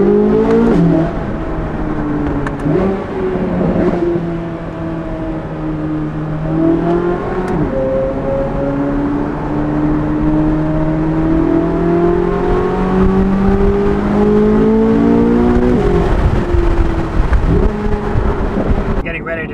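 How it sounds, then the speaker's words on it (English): C8 Corvette Z06 with titanium exhaust and stock downpipes, revving loudly and continuously through gear changes with sharp ignition-cut stutters at each shift, close and sustained over about twenty seconds. "The ignition cuts on the shifts are awesome as well."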